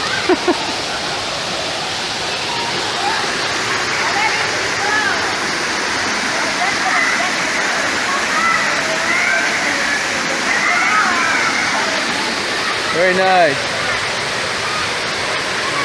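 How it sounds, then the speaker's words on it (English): Waterfall of several tiers feeding a pool where people swim, roaring steadily and close throughout, with people talking briefly over the rushing water. "I guess we're coming up on the bigger falls"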